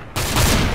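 A loud, close shotgun blast in the video game CS:GO, with a heavy boom that hits abruptly and sustains a rumbling tail through the short moment.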